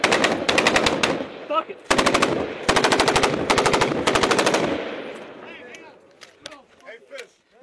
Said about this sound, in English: You gotta make sure they know where they're at before I start shooting again.